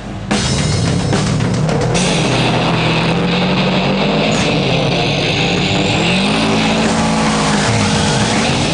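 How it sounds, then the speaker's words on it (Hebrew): Race cars warming up their engines at the Arad airfield racetrack in Israel, loud continuous revving and droning with pitch rising and falling as several engines run close by. "והיום הם מחממים לראשונה מנועים באור יום, באימון החוקי הראשון בישראל"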